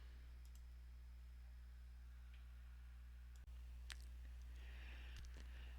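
A computer mouse gives a couple of faint, isolated clicks a fraction of a second apart over a steady low electrical hum in a quiet room.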